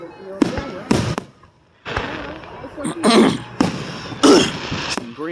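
Fourth of July fireworks with sparkling glitter effects burst outdoors in a run of sharp cracks and crackling pops, spaced by short pauses, some louder and longer than others.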